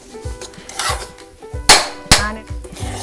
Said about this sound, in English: Now I'm going to mix that sugar syrup into this.